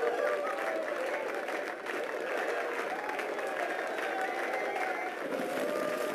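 In the Torino 2006 video game, a stadium crowd gives steady, dense applause and cheering at a luge event, a continuous moderate-level roar of clapping that lasts the whole time.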